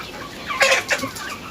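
A mother hen watching her chicks gives a few soft clucks, close by, over a quiet village background.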